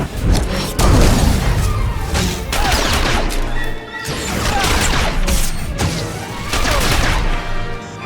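Gunfire in the video game Star Wars: The Old Republic cracks in loud, repeated bursts, several volleys hammering out with short gaps between them.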